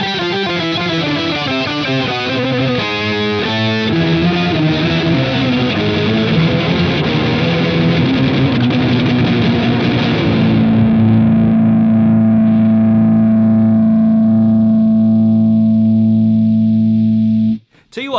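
Electric guitar through a Bias FX 2 Pro rock preset with gate, compressor, distortion, chorus and echo, playing loud driven riffs, then a sustained low chord that rings out for several seconds before cutting off abruptly.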